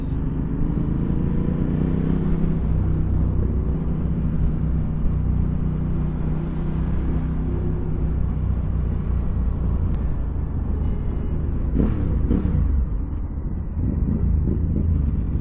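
Low steady engine rumble of a truck running behind a Ducati Scrambler Urban Motard, a continuous heavy drone with a brief louder burst near the end.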